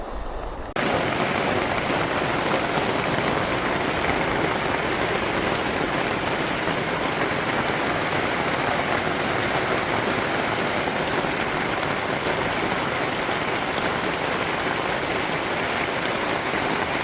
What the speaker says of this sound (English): Still raining, still hailing, getting pretty wet